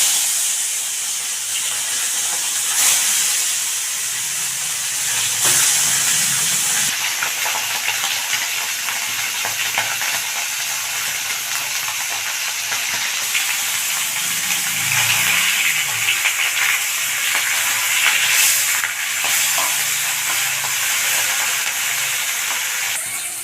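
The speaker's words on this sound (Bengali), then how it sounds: "তেল গরম হয়ে গেছে, এবার মাছগুলোকে ভেজে নেব।" Pieces of bhola fish fry in hot oil with a continuous, even sizzling hiss that stays fairly loud and close for the whole stretch, with faint occasional low bumps and no talking.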